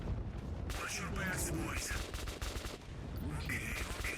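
Gunfire in a Metro game on a Steam Deck crackles in rapid, dense bursts, with game sounds mixed in and a voice speaking over the shooting.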